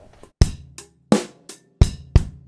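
Coffee fill on a drum kit, two strokes on each drum moving down the toms, loud and close, with a cymbal crash at the end, no voices.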